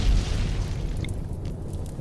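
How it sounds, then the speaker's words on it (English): A frag grenade explodes in the video game Rimworld: a deep, low boom at the start, then a rumbling tail that stays fairly loud to the end. "First frag grenade went off."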